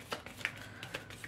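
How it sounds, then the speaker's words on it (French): Tarot cards being drawn and shuffled make soft, quick riffling snaps and light paper flicks, close and quiet, in a short burst with no talking. "Il faut que je tire les cartes sur cette reine."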